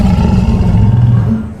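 A voice imitates a lion's roar, a loud, sustained, low guttural growl held for over a second, close to the microphone, fading slightly at the end.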